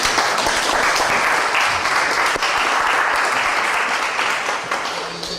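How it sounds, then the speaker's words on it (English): Audience applause after a university public lecture, a full room clapping loudly and steadily with occasional sharper claps, easing off slightly at the close. "please give her a hand of applause."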